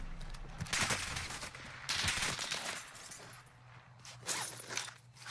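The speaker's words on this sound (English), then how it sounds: "He's getting shot at right now" Gunfire in a video game, with several loud bursts of rapid shots separated by quieter gaps, mixed with crackling impacts and clattering effects, no talking.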